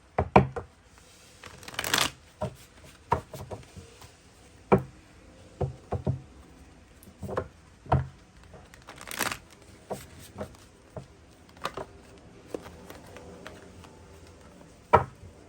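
Tarot card deck being shuffled during a Hindi card reading, a series of crisp riffles and taps coming in irregular bursts, close and fairly quiet, with no talking.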